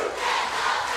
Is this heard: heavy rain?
no